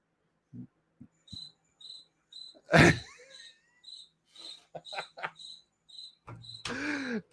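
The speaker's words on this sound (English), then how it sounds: "Got cricket sounds." A cricket chirping sound effect gives short, regular high chirps in a sparse rhythm, broken by a loud sneeze-like burst and other brief human noises.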